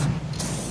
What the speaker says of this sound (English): So instead of spraying one heavy coat, you want to spray 2 or 3 light coats.